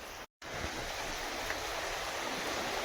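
Steady rushing water of a rising tide flows continuously at a creek by a jetty with rocks, a broad even hiss with no voices, briefly cut by a short silent gap near the start.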